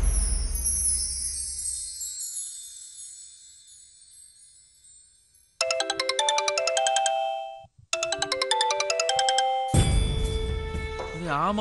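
A mobile phone ringtone for an incoming call plays loud and close as a repeating melodic electronic tune in two bursts with a short gap, after a fading tone at the start and ending in a burst of noise.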